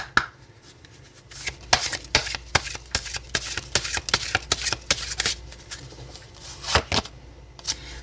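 Oracle cards shuffled for a weekly tarot reading, a quick run of crisp riffling slaps and flicks, close and fairly loud, in irregular bursts with brief pauses.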